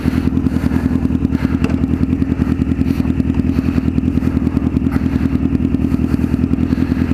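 A Honda Fireblade motorcycle engine runs steadily and loud with a dense throbbing low rumble and a constant mechanical clatter, close up, with no talking.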